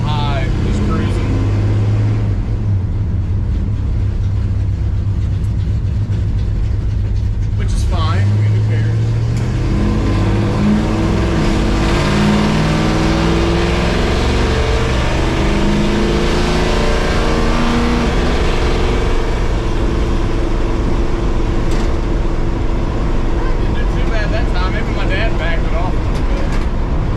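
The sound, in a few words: 1969 Plymouth Barracuda car engine while driving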